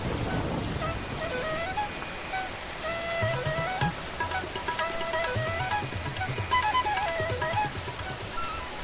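Cartoon rain falls on a monsoon day at a village vegetable market, a steady patter that runs throughout beneath a light, tinkling musical melody.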